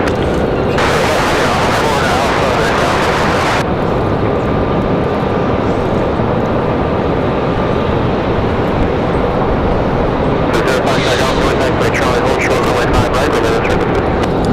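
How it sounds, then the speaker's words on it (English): A Delta Airbus A220 airliner roars steadily at Raleigh-Durham International Airport, a loud continuous broadband jet rumble filling the whole stretch, with a plane spotter's outdoor setting and wind-like noise around it. "I hear an A220. Is that Delta?"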